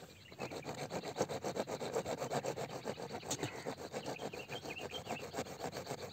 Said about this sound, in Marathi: आता बघा या दोन्हीकडनं पाईप कापलेला आहे त्यांनी आणि तो आता बाहेर काढतोय बघा.